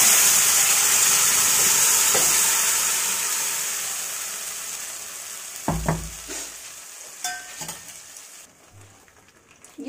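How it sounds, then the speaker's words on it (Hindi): Cumin seeds and asafoetida crackle in hot oil, a steady loud sizzle with scattered sharp pops and stirring clatters toward the end as the tempering fades slightly. "ये अब मैंने इसमें डाल दिया जीरा हींग जीरा हिंग चटकते ही"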